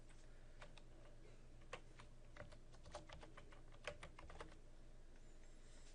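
Faint keystrokes on a computer keyboard as a password is typed, a scattering of light irregular clicks over a steady low hum, with no talking.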